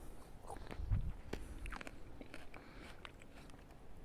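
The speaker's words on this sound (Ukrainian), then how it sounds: "М'якіть хрумка коли ти її розжовуєш, виділяється сік, дуже смачний." A crunchy grape of a hybrid table variety is chewed close up: a quiet crisp bite, then soft, irregular moist chewing and crunching with no talking.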